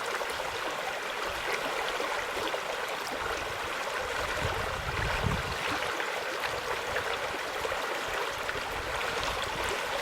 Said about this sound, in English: I'm just going to rinse them and move them around in the water.